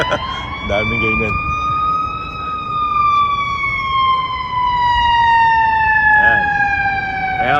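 A loud fire truck or ambulance siren wails steadily in a Canadian downtown, its pitch slowly rising then gliding down, with brief background voices under it.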